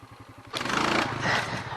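A four-wheeler ATV on massive wheels and tires revs hard while spinning, a loud, close engine roar that swells abruptly after a brief low idle and holds steady to the end.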